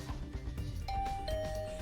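A two-tone doorbell chime rings out in the video game Hundred Line Last Defense Academy, a clear ding-dong heard on its own at moderate volume.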